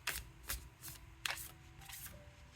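Oracle cards being shuffled by hand in crisp bursts, about five quick riffling swishes spaced roughly half a second apart, close and fairly quiet, with no talking.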